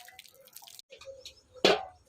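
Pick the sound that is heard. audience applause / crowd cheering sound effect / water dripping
water dripping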